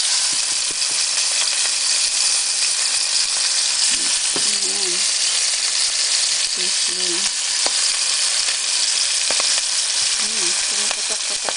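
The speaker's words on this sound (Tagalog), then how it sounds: "lalagay ko na tong manok para medyo mag-brown na konti" Chicken pieces fry and brown in a pan, giving a steady loud sizzle with occasional pops, with no talking.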